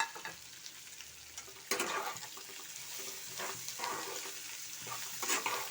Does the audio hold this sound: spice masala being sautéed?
yes